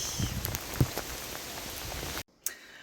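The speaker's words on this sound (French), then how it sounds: "Départ officiel du Var, sous la pluie" Steady rain falls outdoors in the Var at the start of a ride, a constant close patter with a few louder drops, cutting out briefly near the end before returning faintly.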